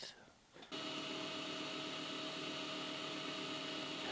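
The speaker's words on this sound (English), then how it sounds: "I'm going to just drill these two holes to the size of my screws" A power drill whirs steadily at high speed after a brief quiet start, drilling small 1/16-inch screw holes in a 1:64 Matchbox Firebird model car, a loud continuous motor whine close by.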